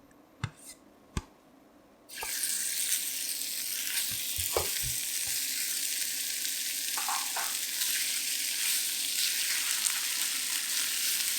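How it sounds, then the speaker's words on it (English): Pork belly hits hot oil in a pan over medium heat, and after a few light clicks a loud, steady sizzle and crackle begins and continues unbroken. "When the oil is hot, add in the pork belly."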